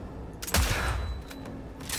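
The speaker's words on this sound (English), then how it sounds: "Let's try this gun." Gunfire in Cyberpunk 2077, a loud close burst of shots followed by a booming impact and a few further sharp cracks, with no talking over it.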